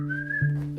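A person whistles a brief two-note phrase, a clear tone that steps down midway, close and alone.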